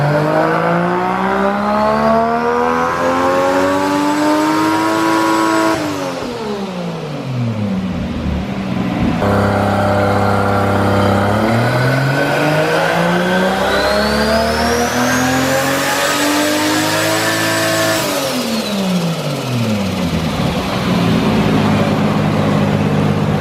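A Mazda Miata engine revs hard and close, climbing in pitch to a high wail, dropping back, then sweeping up again in two long loud runs with no voices.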